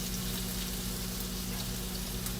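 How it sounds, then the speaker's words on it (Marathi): Green chilli and onion sizzling in hot oil for a Maharashtrian mung bean usal, giving a loud, steady, close crackling hiss throughout, with no voices. "आता ह्याच्यावर आपण मिरची, कांदा टाकणार आहोत"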